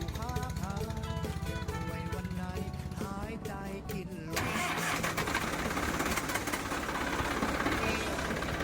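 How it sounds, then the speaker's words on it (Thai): A Ford 6610 tractor engine cranks and catches, then settles into a loud, steady rumbling idle with a rapid mechanical chug. "เครื่องสตาร์ทติดได้จ้า นี่ติดได้แน่นอน"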